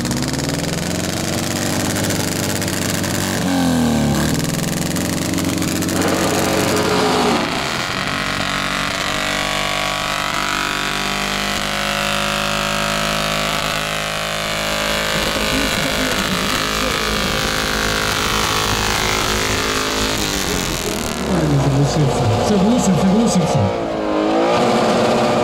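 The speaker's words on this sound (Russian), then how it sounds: "У тебя красивый цветной мотоцикл." A colourful old-school motorcycle at a vintage bike festival revs its engine repeatedly, rising and falling in loud bursts with idling between, while a crowd chatters and a voice speaks over it.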